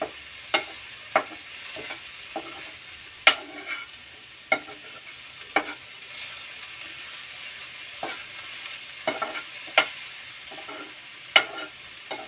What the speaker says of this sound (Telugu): ఇలాగా మనం ఫ్రై చేసేసుకొని